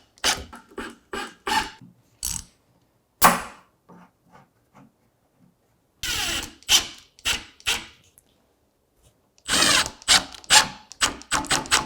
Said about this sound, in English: we can pop our screws in from before, which will bring it into the correct orientation